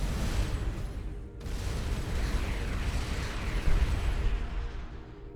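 A station blows up in the space game Starcom Nexus, a dense rumbling explosion that roars on for several seconds with a short break near the start, loud and continuous.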